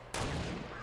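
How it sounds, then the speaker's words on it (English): Gunfire in the video game Fortnite, a single loud, sudden blast that spreads into a long, rumbling tail, heard alone without talking. "Oh, I hear the bullet."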